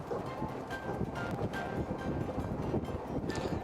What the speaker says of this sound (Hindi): पूरा का पूरा गुजरात का समुद्र तट इस वक्त तेज हवाओं के आगोश में है